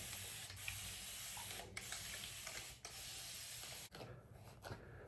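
Hair sprayed with a hand spray bottle in a string of short hissing bursts separated by brief gaps, fairly close and faint, with no talking.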